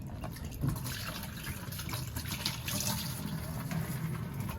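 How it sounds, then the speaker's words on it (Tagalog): Water pumped into a three-layer tarp pond on a rooftop pours and gushes steadily and closely throughout, with no voices over it. "Pang-transfer ng tubig para hindi na natin mamanu-manuhin yung paglagay ng tubig dito."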